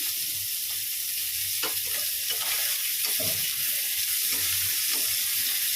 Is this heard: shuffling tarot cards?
no